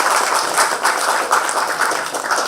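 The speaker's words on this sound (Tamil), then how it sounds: "அதுக்கு நீங்க ஒரு கைதட்டு கொடுத்து அவரை வாழ்த்து" An audience applauds at a Tamil speech event, giving a sustained burst of dense clapping that stays fairly loud and even from start to finish, with no speech over it.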